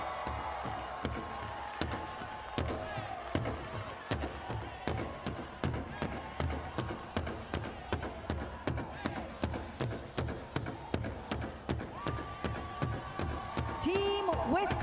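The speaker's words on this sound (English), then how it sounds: "Big cheer coming from Team Wisconsin" At the North American Indigenous Games opening ceremony, a stadium crowd cheers for Team Wisconsin; a steady rhythmic drumbeat pulses throughout, with crowd noise and an announcer talking over it.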